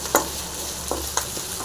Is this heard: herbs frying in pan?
yes